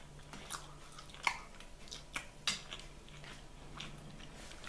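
Someone eats sausage close to the microphone, with soft repeated chewing and a few sharper bites or crunches over a quiet indoor background, and no talking.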